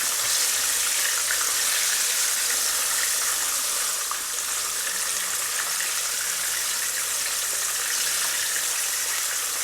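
A fish fillet fries in very hot oil in a pan, giving a loud, dense, unbroken sizzle and hiss that holds steady throughout.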